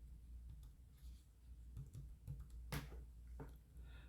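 Typing on a computer keyboard at home, a quiet run of soft, irregular key clicks with a few sharper taps, close by over a low steady background hum.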